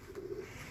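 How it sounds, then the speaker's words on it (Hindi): Pigeons coo softly in a brief, low, murmuring stretch, kept in a grain storehouse, heard close but quiet with no voices. "बड़े कबूतर हैं यहाँ"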